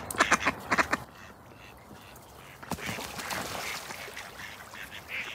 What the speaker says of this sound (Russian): Смотри, селезень какой, а, наглый.